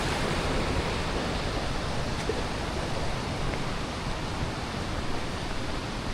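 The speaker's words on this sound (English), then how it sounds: "the creek just plunges into that little thin area" A creek plunges into a narrow waterfall over deep pools at Rock Run Falls, making a steady broadband roar of falling water that stays constant and fairly close throughout, with no voices.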